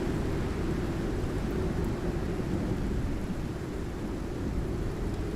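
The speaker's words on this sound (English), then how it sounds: "I apologize if that storm is like ridiculously loud for you guys." A thunderstorm in the survival video game Icarus makes a loud, steady wash of rain-like roar with deep rumbling underneath, holding constant throughout with no voices.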